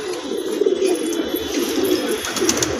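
A wild pigeon coos steadily and close by, a low, continuous run of throaty calls with no gaps, alone without any talk.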